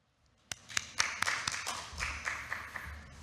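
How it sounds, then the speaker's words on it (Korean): Applause at a university mathematics education briefing welcomes a professor to the podium, starting with a few scattered claps that quickly swell into a moderate round from a seated audience, then taper. "큰 박수로 환영해 주시기 바랍니다"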